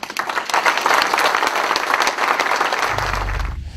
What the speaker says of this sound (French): avec les applaudissements pour terminer